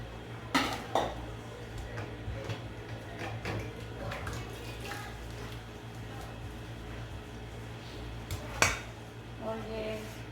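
Ingredients for pizza dough (olive oil, sugar, salt, baking soda) being mixed in a bowl, with intermittent clinks and scrapes of utensils against the dish over a low steady hum. The sounds are close and fairly quiet.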